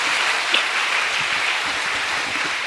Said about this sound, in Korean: 박수 다시 한번 쳐봐요